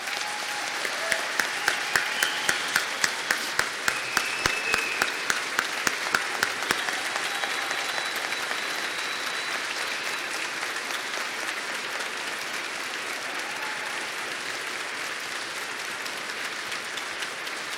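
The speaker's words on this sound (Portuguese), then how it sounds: "com a permissão do Carlos Augusto, uma salva de palmas para o Candreva, por favor." A ceremony audience at a medal presentation in a legislative house in Brazil bursts into applause. A few sharp rhythmic claps stand out early, then the steady clapping fades into a softer, lingering ripple.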